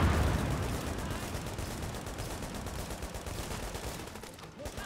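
Dense sustained gunfire in the video game The Division, rapid automatic bursts blending into a continuous roar that fades slightly toward the end, loud and without speech.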